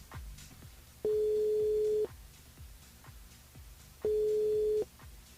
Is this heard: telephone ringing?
yes